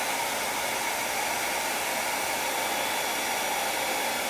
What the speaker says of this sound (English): So if I turn the hairdryer on